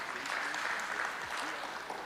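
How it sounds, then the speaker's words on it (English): Applause from an audience at a moral and innovative leadership workshop, a steady wash of clapping filling the hall for about two seconds, with a faint voice audible beneath it. "Can you clap her?"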